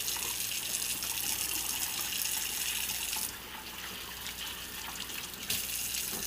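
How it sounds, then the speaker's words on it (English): Water runs steadily from a kitchen tap while hands are washed, a continuous close splashing gush that shifts in tone partway through as the flow hits the hands differently; no voices. "Now, wash my hands a little bit."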